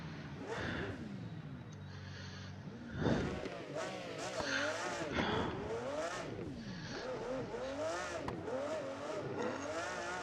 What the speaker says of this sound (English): So now you can drive an F1 to the limit if you really wanted to.